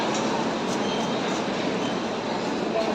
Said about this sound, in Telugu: ఈ ట్రైన్ ఇది ఇప్పుడు మనం ఎక్కేదే.